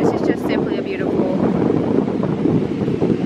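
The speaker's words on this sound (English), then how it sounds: "Hopefully you can hear me because it's so windy" Strong wind roars and buffets the microphone nonstop, a thick rumbling rush, with a brief voice at the very start.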